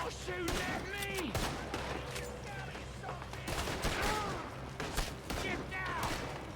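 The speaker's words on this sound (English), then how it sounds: "Why are they all shooting at me?" Dense, continuous gunfire fills a shootout in the video game Red Dead Redemption 2, with rapid overlapping shots and ricochets heard under voices talking.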